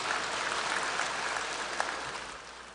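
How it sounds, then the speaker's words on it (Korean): A church congregation claps together in a dense, even wash of applause that holds steady for a few seconds before easing off slightly. "박수 한번 쳐주십시오"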